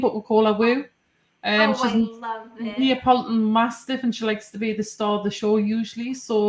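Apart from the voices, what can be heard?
No everyday noises stand out.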